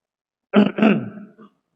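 A single person clears their throat in two quick harsh bursts, close and fairly loud, then a fading rasp.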